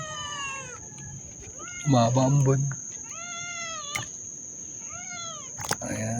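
Several cats meow repeatedly at a Tanza, Cavite fish landing, their drawn-out, wavering cries coming in bursts close by, with a voice breaking in briefly between them and a steady high whine running underneath.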